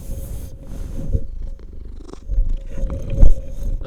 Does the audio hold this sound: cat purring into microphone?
yes